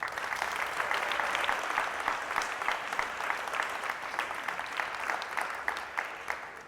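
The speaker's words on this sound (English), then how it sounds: "So let's clap it up for that group" Dense, steady applause from a large audience at a 2025 event speech, filling the whole stretch with no voices and easing slightly toward the end.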